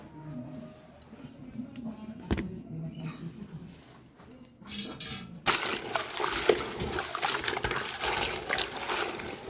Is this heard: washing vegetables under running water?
yes